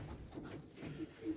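Pigeons coo softly in low, murmuring phrases that repeat through the short stretch, faint and close, with no talk over them.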